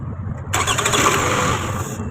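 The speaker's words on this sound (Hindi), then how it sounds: "अभी गाड़ी को स्टार्ट करो" A Toyota Camry with an ignition coil fault cranks and catches halfway through, its engine starting with a burst of loud mechanical noise that settles into a rough, close running sound.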